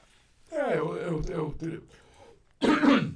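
A person clears their throat with a rough, voiced rasp lasting a couple of seconds, then a second short, harsh clearing follows after a brief pause.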